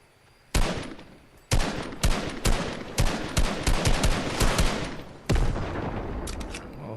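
Video game gunfire rings out in sharp bursts, a loud opening shot followed by a quick rapid volley of shots and another heavy blast near the end, dense and close with no talking.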